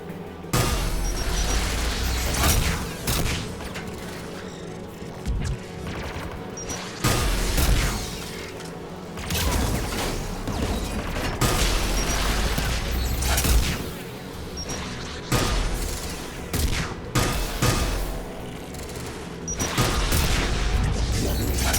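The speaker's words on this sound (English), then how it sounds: "There, the anti-aircraft guns." Anti-aircraft guns fire in Mass Effect 3, a dense stream of booming, crackling bursts that keeps going at a loud level with heavy low-end rumble and surging peaks, with no voices.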